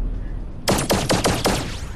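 A rapid burst of gunfire from a gun in the VR space game Hubris, about six sharp shots in quick succession, loud and close, ringing out after a short quiet lead-in with no talk.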